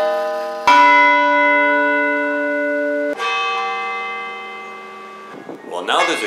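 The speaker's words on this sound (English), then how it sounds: "The town hall clock bell has been fixed and now rings on the hour and on the half hour during the daytime." A repaired town hall clock bell rings out loud and close, two resonant strikes with long ringing decay, followed by a voice speaking at the end.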